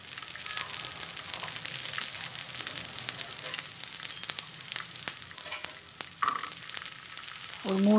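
A handful of small shallots frying in oil in a pan, a close steady sizzle with crackling pops and a few clicks, rising briefly louder near the end.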